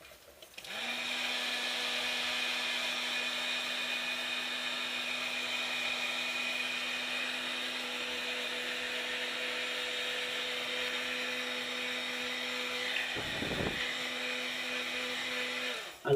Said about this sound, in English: I love the heat gun. Sometimes I just use a lighter, but the heat gun does it the best.